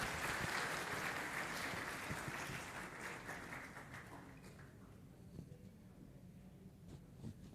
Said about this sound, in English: Everyone can have a big round of applause.